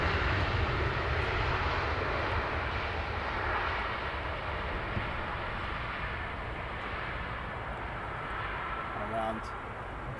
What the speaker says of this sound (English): Around to the 777, taxiing down to the threshold, runway 27 left.